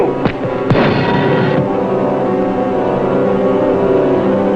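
Torpedoes fired from a WWII US Navy submarine, the USS Pargo, during an attack: two sharp launch thumps in quick succession, then a sustained loud rushing roar that gradually settles into a steady rumble.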